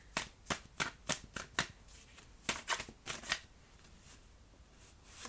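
Tarot cards being drawn from a deck, heard as a quiet series of crisp card flicks and riffles, about eight quick snaps in a row followed by a few softer ones, close and isolated.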